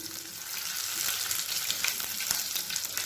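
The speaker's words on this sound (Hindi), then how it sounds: "हरी मिर्ची फ्राई होने लगी है तो अब हम इसमें मीठा नीम डाल देंगे, जिसे कि हम कड़ी पत्ता भी कहते हैं, और इसे भी हल्का सा फ्राई कर लेंगे" Green chillies and curry leaves frying in hot oil in a pan, a steady close sizzle with light crackling and no voices.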